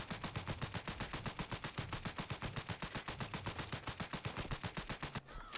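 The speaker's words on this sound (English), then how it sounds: "We'll switch over to the fully auto with a suppressor now." Suppressed full-auto fire from a Vulkan-M rifle with a drum magazine in the game Fallout 4. One long, rapid, evenly spaced burst of muffled shots cuts off just before the end.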